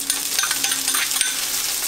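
Onions, celery and capers stirred in a hot pan, a steady close sizzle with scraping spoon strokes throughout, no voices.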